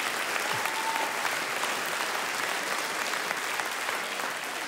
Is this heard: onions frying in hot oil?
no